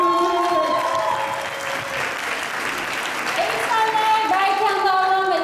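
An audience at a dance school's end-of-term show bursts into sustained, loud applause for a salsa group, with a voice speaking over the clapping and music tones coming in beneath.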